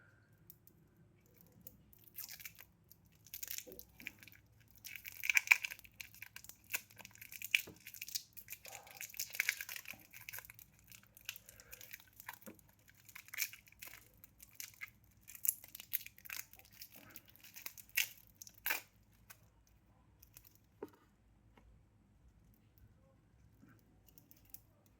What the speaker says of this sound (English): The plastics are a little tighter, but it's working. I'm peeling it off